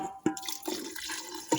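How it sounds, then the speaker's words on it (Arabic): Water goes into a pan of tomato and hot pepper sauce, giving a few brief splashing drips at the start and end of a quiet moment. "نضيفو لها شوية تاع الماء،"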